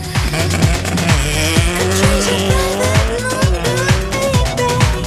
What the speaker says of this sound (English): some of the fastest street and circuit racing cars in WA being thrown around the foreshore course in spectacular fashion